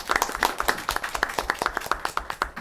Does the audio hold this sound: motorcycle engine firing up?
no